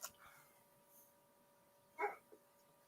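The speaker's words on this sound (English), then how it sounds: "What are you barking about there" A dog gives a short, faint bark or yip followed by a softer second sound, heard indoors at a distance with otherwise quiet surroundings.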